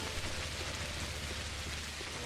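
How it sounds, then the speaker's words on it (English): Pouring rain in the game Pathologic Classic HD, a steady dense hiss of falling water that stays even and unbroken throughout, with no voices. "While in the pouring rain,"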